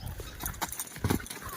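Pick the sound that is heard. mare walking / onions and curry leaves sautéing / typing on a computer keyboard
mare walking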